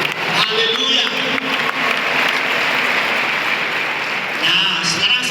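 A church congregation at a Christmas service claps together in a sustained, fairly loud wash of applause, with voices and cheering mixed through it.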